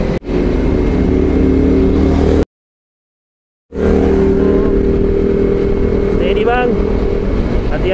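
A motorcycle ridden along produces a continuous loud engine drone with wind rumble, cut by a brief total dropout before resuming; a voice speaks over it.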